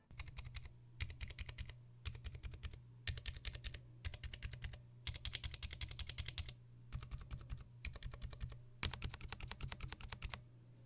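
Rapid clacky typing on a mechanical keyboard with Zilent V2 tactile switches in quick bursts separated by brief pauses, close and crisp, with a steady low hum underneath.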